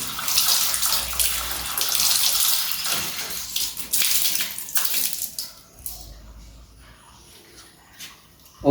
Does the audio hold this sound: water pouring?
yes